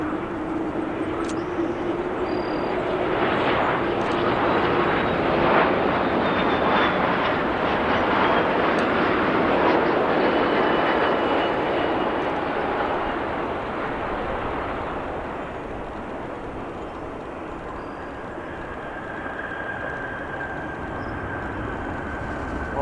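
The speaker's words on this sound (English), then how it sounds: "A Dreamliner using some aerodynamic braking to slow down" A Boeing Dreamliner lands at O'Hare and rolls out with its nose held high for aerodynamic braking, a broad jet roar swelling, holding steady, then fading over the runway.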